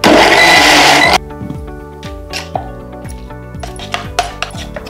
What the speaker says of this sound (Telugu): మనం మిక్సీ జార్లో వేసేసుకొని కచ్చా పచ్చా చేసుకోవాలి